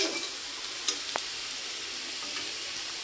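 Beetroot and green chillies fry in a pan with a steady, bright sizzle, close and constant, broken by a couple of brief clinks of stirring.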